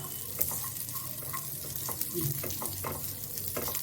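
Cashews and raisins frying in a pan, a quiet crackling sizzle with occasional scrapes and soft clinks of a spoon, faint and close, no voices.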